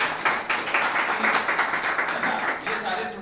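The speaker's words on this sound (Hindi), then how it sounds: "तो एक बार जोरदार तालियां आपके लिए" Loud audience applause at a Modicare business meeting, steady dense clapping in rhythmic surges throughout, with some voices under it.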